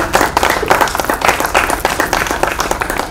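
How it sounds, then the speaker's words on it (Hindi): An audience applauds at a desert painters' camp event, loud, dense clapping from a crowd, sustained and close throughout. "जोरदार तालियां हो सभी के लिए।"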